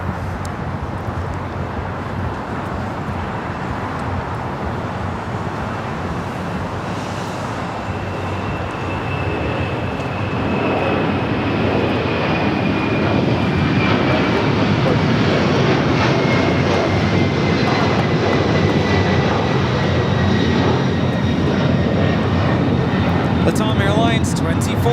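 A Latam Airlines jet airliner taking off at LAX, bound for Lima, Peru, its engines roaring steadily and swelling louder in the second half, with a high turbine whine sliding downward; a voice talks over the start.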